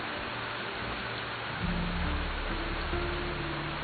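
Steady rain falls with a deep thunder rumble swelling midway and lingering low beneath the downpour, no voices present.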